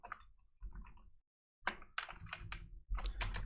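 Typing on a computer keyboard while writing CSS code, quick clusters of close, crisp key taps in short bursts with brief pauses between them.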